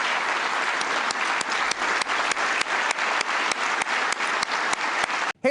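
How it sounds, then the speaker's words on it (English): An audience applauds Medal of Valor recipients, police officers honored by President Obama: loud, sustained, dense clapping from a large crowd that cuts off abruptly near the end. "Let's give one last big round of applause to the recipients of the Medal of Valor."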